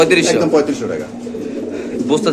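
Pigeons at a wholesale pigeon market coo in low, throaty rolling calls, close and loud, while people talk nearby.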